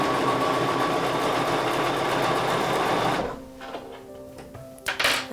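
A sewing machine stitches binding onto a small sampler quilt, a fast continuous mechanical whir that runs for about three seconds, then stops abruptly, followed by soft fabric handling and clicks.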